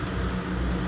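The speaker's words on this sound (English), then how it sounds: "It is actually currently raining outside, so you will be hearing rain and cars in the background." Rain falling outside with cars passing, a soft, steady wash of broadband hiss and low rumble that fills the whole second without a break.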